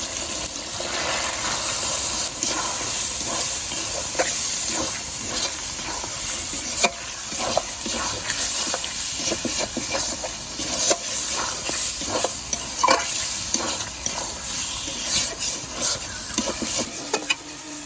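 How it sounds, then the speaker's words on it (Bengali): Goat meat frying in spice paste gives a loud, steady hiss and sizzle throughout, broken by irregular stirring scrapes and small pops, close to the pan with no talking. "এবার দিয়ে দেবো এর মধ্যে খাসা।"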